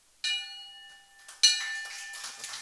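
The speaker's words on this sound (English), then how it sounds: "I'm going to ring the bell." Two strikes of a bell in the grill room of the St. Francis Yacht Club in San Francisco, each a bright ring that hums on and fades, the second louder, closing a luncheon.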